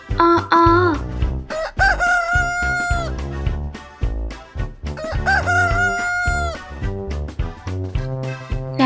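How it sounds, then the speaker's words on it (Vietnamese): Rooster crowing, several loud, close cock-a-doodle-doo calls in quick succession over a rhythmic, busy background. "Thấy trời sáng, gà gáy ó o, đua nhau gà gáy, gà gáy thật to ó ó"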